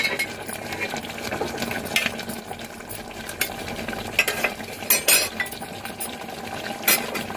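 Thick brinjal curry masala bubbling in a pan, heard up close under busy metal stirring, clinks and scraping from a utensil against the pan, loud and continuous with a few sharper knocks.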